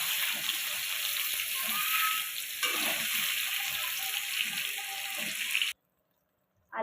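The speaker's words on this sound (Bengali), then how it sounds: "আলুগুলো লাল লাল করে ভেজে তুলে নেবো" Potatoes fry in hot oil in a village-style home kitchen, a steady bright sizzle with occasional stirring clatter that runs unbroken before cutting off abruptly near the end.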